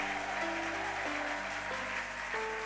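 A church congregation applauds during a Sunday morning service, a steady wash of clapping heard under sustained keyboard or organ tones.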